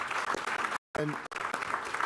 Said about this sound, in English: Can we give Christine a round of applause?